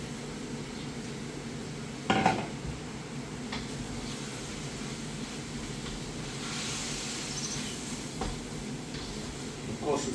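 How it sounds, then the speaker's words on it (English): Peppers tipped onto mushrooms and onions in a hot pan give a low, steady frying hiss, with a sharp clatter of utensils against the pan and a few lighter knocks scattered through. "we're going to chuck the peppers and that in on the mushrooms"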